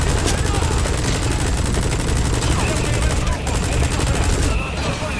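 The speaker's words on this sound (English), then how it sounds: "Fuck this machine gun, man." A machine gun in the video game Phantom Stain fires continuously in loud, rapid bursts that fill the whole stretch, with a voice talking underneath.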